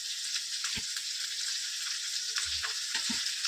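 Onions frying lightly in oil, a soft continuous sizzle with a few low knocks from the pan or spoon, close and fairly quiet, no one speaking.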